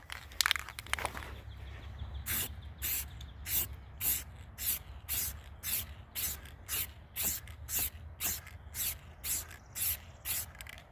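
Spray paint with metallic finish hisses onto a go-kart chassis in a steady series of short, even bursts, about one every half second, close and clear with no talk.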